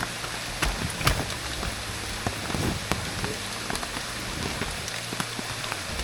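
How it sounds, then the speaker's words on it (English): Monsoon rain patters steadily in a rainforest at Amboli in the Western Ghats, a dense, continuous hiss of drops striking the ground and leaves, with a few louder nearby splats and no voices. "the rain's beginning to pick up"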